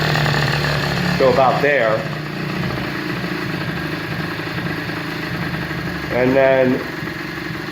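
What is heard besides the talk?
50cc Blue Dino minibike engine running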